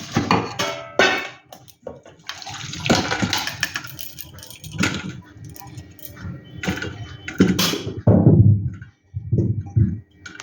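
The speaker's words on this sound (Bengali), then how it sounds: "এবারে আমি ঢাকা খুলে আলুগুলোকে একটি পাত্রে ছেঁকে নেব।" Boiled potatoes tipped and strained into a pot after the lid comes off, with irregular metallic clatters, clinks and scraping bursts and brief pauses between them.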